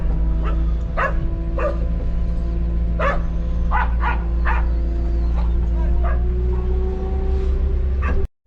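A dog barks and yips repeatedly in short bursts over a steady low engine hum from a Mecalac excavator, with some whining between barks.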